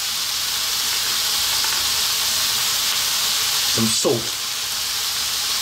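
Ground beef fries in a pan for a cheesy Mexican penne bake, with black pepper and salt added; a steady close sizzle and hiss runs throughout, with a brief stirring scrape near the end and a voice speaking briefly over it.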